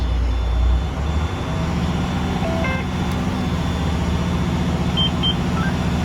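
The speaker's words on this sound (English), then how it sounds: "Now we start the engine." A school bus diesel engine runs close by during a Pennsylvania air brake test, brought up to 1,500–1,800 RPM: a steady low rumble that swells slightly near the start, with a few faint high beeps over it and no talk.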